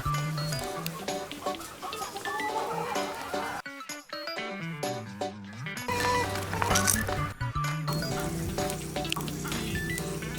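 Hens clucking during a playful chicken contest set up beside a grill while skewers cook, close and busy, with repeated clucks and squawks and a short quieter stretch in the middle.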